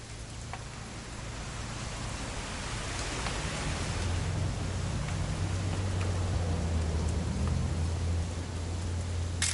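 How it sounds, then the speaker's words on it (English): Steady rain pours in a PS4 video game during a hunting-trip scene, a constant wash of close, even noise over a low rumble that builds slightly toward the end, with no voices. "It's gonna rain the whole weekend"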